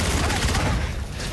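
Rifle fire rattles in the shooter game Call of Duty: Infinite Warfare, a brief, loud burst of rapid shots and booms with a voice talking over it.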